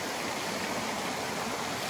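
Close, steady rush of a small waterfall at Playa Venao after a day of rain, a constant moderate splashing hiss with no breaks and no voices.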